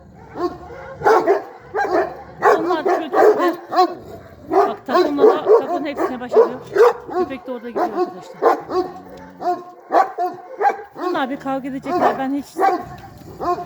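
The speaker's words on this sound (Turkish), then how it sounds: "Şimdi köpek gidiyor arkadaşlar." A dog barks repeatedly in a rough, irregular series of loud, close yips and barks, with whimpering mixed in, near a two-metre wall, while someone talks over it.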